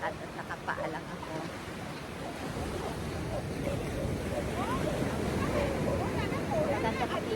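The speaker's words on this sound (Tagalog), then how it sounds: "Maganda pakinggan yung ampas ng alon." Waves wash and roll onto the beach at Jimbaran, Bali, in a steady, broad rush, with wind buffeting the microphone throughout.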